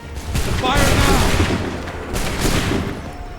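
Musket volley fire from a battle in the video game Assassin's Creed 3, a loud burst of several overlapping gunshots that crackle and rumble for a few seconds, followed by a second volley.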